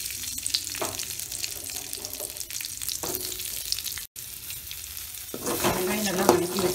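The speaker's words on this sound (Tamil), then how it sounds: "அதுக்கு கொஞ்சம் கொஞ்சமாக எண்ணெய் ஊற்றிக்கிறோம். இப்போ வந்து வெங்காயம் ஆட் பண்ணிக்கிறோம்." Onions frying in oil in a kitchen pan for a kadai mushroom dish, giving a close, continuous sizzle with stirring scrapes, swelling louder near the end.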